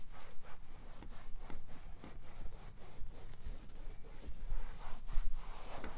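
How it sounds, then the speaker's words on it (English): Microfiber applicator wiping a leather car seat with light pressure, giving quiet, rhythmic back-and-forth rubbing strokes close to the mic. "we're going to use our microfiber applicator"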